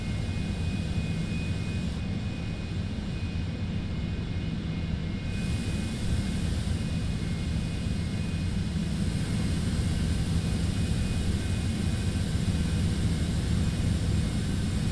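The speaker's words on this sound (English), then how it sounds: "It's a neat airport. I like it." Steady, loud broadband roar of jet aircraft engines at an airport during a Citation X trip, continuous and unbroken with no talking.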